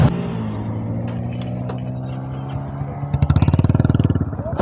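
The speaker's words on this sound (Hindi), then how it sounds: "और भाई उनकी बुलेट भी सही आवाज़ कर रही है यार" Royal Enfield Bullet motorcycle engine idling with a low steady thump, then revving into a rapid, loud pulsing beat near the end, with a voice talking faintly over it.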